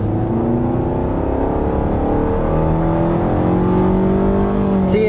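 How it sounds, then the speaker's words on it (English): From inside a 2020 Nissan Rogue with a 2.5-liter four-cylinder in sport mode, the engine drones steadily louder as it accelerates along a back road, its tone rising smoothly with road noise throughout. "we'll go ahead and put it into the sport mode here. And let's turn down onto this back road and see how the acceleration is."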